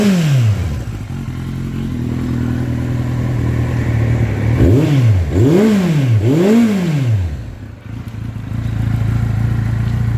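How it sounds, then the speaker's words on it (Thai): A 2016 Kawasaki Z800 motorcycle engine idles steadily, then revs three times in quick succession before settling back to a steady idle. "ฟังเสียงเครื่องยนต์กันครับ"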